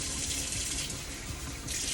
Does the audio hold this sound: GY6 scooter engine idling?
no